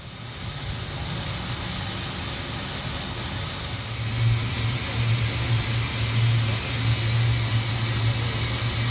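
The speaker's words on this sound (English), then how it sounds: "this fine Sentinel S6 6-wheel steam wagon" A Sentinel S6 six-wheel steam wagon running outdoors at a steam museum in Bolton, with steady hissing steam and a low, pulsing mechanical chuff underneath, fairly close and continuous.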